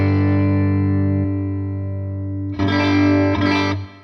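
Electric guitar through an HX Stomp stereo effects loop with no reverb applied, a sustained chord ringing alone, then strummed again with a wobbly, hollow phasing sweep from the loop's phase problem.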